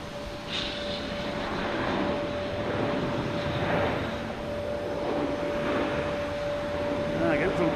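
Swiss Air airliner at Boston Logan Airport, a steady broadband jet roar holding throughout at moderate distance, with a constant tonal hum and faint background voices.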